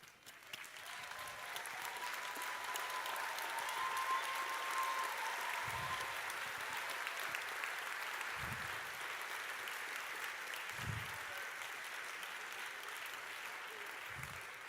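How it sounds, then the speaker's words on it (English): Sustained applause from a large crowd at a university science graduation ceremony, steady and even throughout, with a few low thumps scattered through it. "acknowledge their support with a round of applause"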